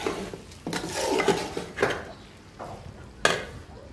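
Rice for khichuri toasted in a pan, with repeated scraping and clinking of a utensil against metal cookware and soft sizzling underneath, close and moderately loud with irregular stirring strokes.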